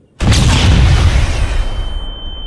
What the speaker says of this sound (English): now at the moment when I throw a flashbang